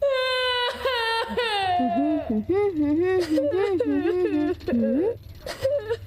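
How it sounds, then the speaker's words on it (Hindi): Nobita, the Doraemon cartoon boy, crying loudly in long wailing, whimpering sobs with pitch that rises and falls, close and continuous, while a second character's voice briefly cuts in. "ये जोर जोर से रोने की आवाज मैंने पहले भी सुनी है।"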